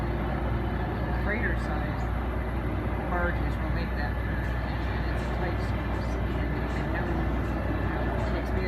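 A passing Norfolk Southern freight train near a river dock, a continuous loud low rumble and rolling roar that holds steady throughout, with faint squeals and clanks riding on top.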